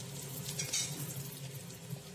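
Onion, garlic and chili frying in hot oil for a tomato chutney, giving a steady, close sizzle with light crackling throughout and no voices.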